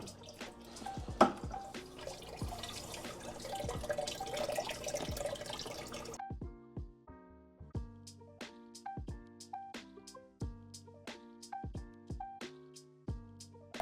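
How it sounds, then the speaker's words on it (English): Freshly made RODI water pours into a Fluval Flex 9-gallon aquarium as a rushing, splashing stream for about six seconds, then gives way to a series of distinct drips and small plops that continue at an uneven pace. "we're gonna go ahead and fill the tank up with some freshly made RODI water"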